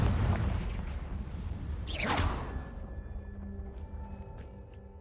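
A Confringo fire spell blast in Hogwarts Legacy: a heavy booming burst, then a bright whooshing flare midway, dying into a hum with faint chimes.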